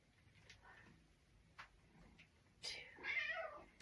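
A house cat gives a faint meow near the end, after a few soft clicks and taps in an otherwise quiet indoor room.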